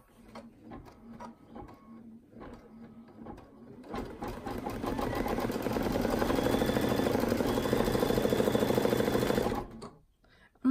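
A Luminaire sewing machine stitches, starting with a few separate needle strokes, then running steadily at a fast, even hum with rapid needle clatter, close and loud, before stopping abruptly.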